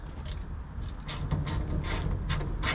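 A socket wrench ratchets with short bursts of clicking in an uneven rhythm, close and moderately loud, while removing parts from a wood boiler installed in 2008.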